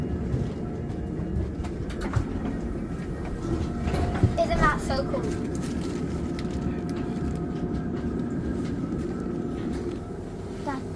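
The train carriage carries a steady rumble of running wheels and the low hum of its motion, fairly loud and continuous, while a young person talks over it and brief squeaks and clicks come and go.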